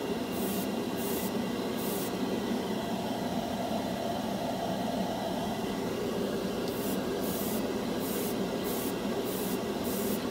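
An airbrush set light at about 15 PSI sprays cheap $2 chrome paint in a continuous, even hiss that holds steady and fairly loud throughout, with no talk.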